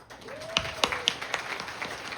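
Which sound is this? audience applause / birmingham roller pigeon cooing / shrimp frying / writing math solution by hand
audience applause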